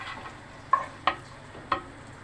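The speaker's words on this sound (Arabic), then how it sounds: "هنحط الزيت بتاعنا قيمه كده ربع كوبايه زيت، وهننزل عليه بالبصل. نفضل نقلب في البصل لحد ما يحمر معانا." Onions frying in about a quarter cup of oil in a pan, with a soft constant sizzle broken by three sharp scraping stirs, close by and without talk.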